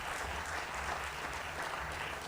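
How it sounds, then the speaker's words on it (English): Steady applause from a conference audience after a talk at FOSS4G Prizren 2023 fills the whole stretch, dense clapping without pauses. "So let's give Martin another round of applause, and we move on."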